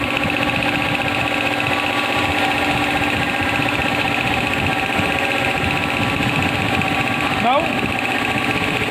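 A two-stage air compressor with an LP cylinder runs steadily and loudly during a performance test, giving a constant mechanical hum and rapid knocking throughout, with a voice speaking over it.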